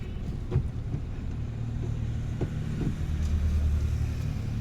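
A car engine idles with a low, steady rumble while the driver prepares to pull away in first gear, the hum close and even with faint knocks of movement inside the cabin.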